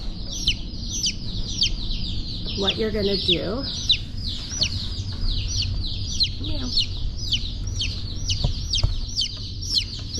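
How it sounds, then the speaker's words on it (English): Baby chicks chirp steadily in a box, a dense run of high, rapid peeps close by, with a person talking over them partway through. "But see these little chickens"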